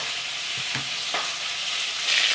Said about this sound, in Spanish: Se nos tiene que freír así un poquito, dorarse, pero tampoco se tiene que quemar.